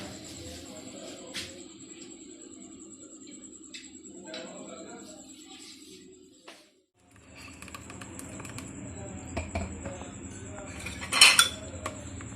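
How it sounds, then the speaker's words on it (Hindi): Metal utensils and a pan clink and scrape softly while apple jam is strained into the pan, with scattered light taps, a brief pause, and a sharper clatter near the end over a steady kitchen hum. "उसी पैन में दोबारा मैं इसके अंदर ना इसको छान देती हूँ।"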